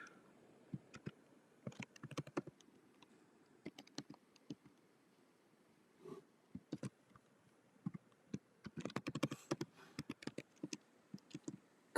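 Quiet, irregular tapping on a computer keyboard as a password is entered, scattered clicks in short bursts with pauses between, faint and close with no voices.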